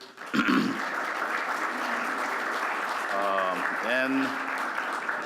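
An audience applauds after a presentation on homelessness, a steady wash of clapping that begins abruptly and holds throughout, with brief voices audible under it near the end.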